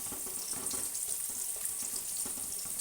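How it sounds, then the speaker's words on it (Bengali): Poppy seed paste water poured into a hot pan of prawn and potato posto, a steady close hiss and gentle bubbling sizzle running evenly for a few seconds without talk. "এবার দিয়ে দিচ্ছি আমি এতে অল্প পরিমাণের একদম জল।"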